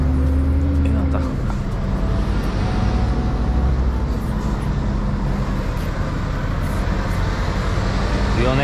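Heavy road noise at Italian road works as a truck rumbles past close by, a loud continuous low roar with engine drone dominating throughout.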